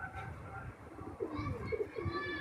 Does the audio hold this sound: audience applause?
no